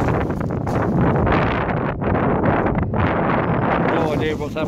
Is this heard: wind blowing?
yes